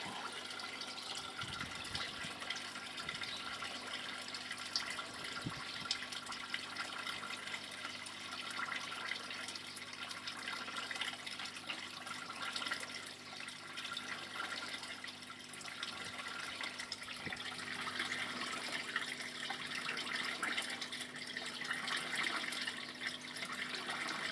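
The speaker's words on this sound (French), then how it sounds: "Donc là on entend le siphon aspirer là-haut." A siphon in a CHOP aquaponics system sucks up water, a steady gurgling, trickling rush with occasional soft knocks, faint and continuous, no speech.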